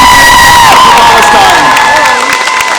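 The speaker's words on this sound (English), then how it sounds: "Can we please give a big round of applause to Nicole" Outdoor crowd at a Palestine solidarity rally at Manchester Piccadilly cheering, whooping and clapping loudly, with shouted voices and high yells riding over a dense, continuous roar.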